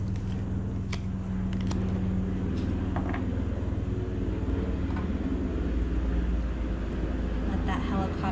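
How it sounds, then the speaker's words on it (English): Helicopter passing overhead outdoors, a steady low rumbling drone that stays loud across the whole span, with a person talking over it. "let that helicopter go by."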